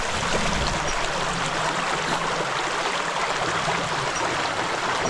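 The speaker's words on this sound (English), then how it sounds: "Personally, I don't like camping next to a creek like this. Too much noise." A forest creek runs beside a camp spot among dead, leaning trees, giving a steady, loud rushing and gurgling wash that fills the whole stretch with no talking.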